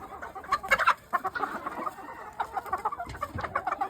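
Several backyard chickens clucking nearby in winter, in scattered, overlapping bursts, moderately loud, with no talking.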